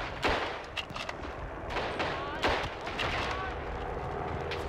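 Grenade blasts and gunfire in the World War I shooter game Verdun, repeated sharp bursts and booms over dense battle noise, with someone talking in between.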